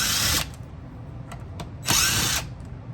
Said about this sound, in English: I like to take my DeWalt drill and I just use a little impact with an extension with a Phillips bit